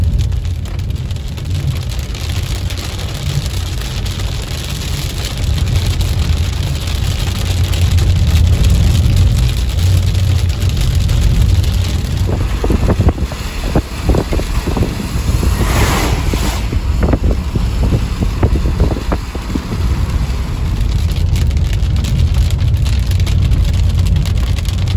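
Heavy rain pouring down on a country road during a thunderstorm, a loud, steady broadband wash with gusty wind buffeting the microphone, continuous and close throughout with no voices.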